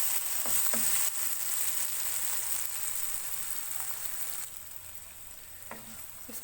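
Masala with green coriander is stirred in a pan for an egg and potato dish, giving a loud, continuous close sizzle with a few soft spatula scrapes.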